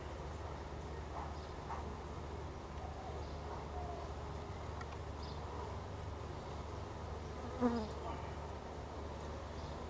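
Honey bees buzz steadily around an open, crowded hive, a dense continuous drone with occasional closer individual passes and one brief louder bump near the end.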